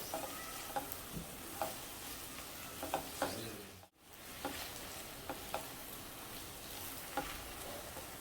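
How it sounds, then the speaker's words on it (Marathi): Besan is stirred into okra stir-fry in a pan over a soft, constant sizzle, with faint scraping taps from the spoon recurring every second or so and a brief dropout midway. "आता ह्यामध्ये मी बेसन घालते आणि मिक्स करून घेते"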